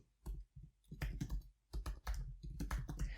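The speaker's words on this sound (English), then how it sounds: "Actually, I got a new keyboard, so this is kind of a new feeling for writing this." Typing on a new computer keyboard, with quick irregular bursts of clicky keystrokes that come in clusters and short pauses, close up and fairly quiet.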